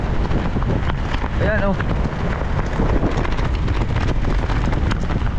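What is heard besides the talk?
strong wind at the seaside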